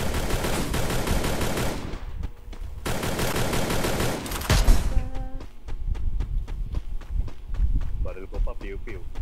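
Rapid video-game gunfire crackles in dense bursts, pausing near two seconds and again after five, then thinning into scattered single shots, with a voice talking over the action.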